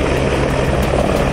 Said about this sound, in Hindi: 5 स्टार होटल ली मेरिडियन की छत पर हेलीकॉप्टर की गर्जना सुनाई पड़ी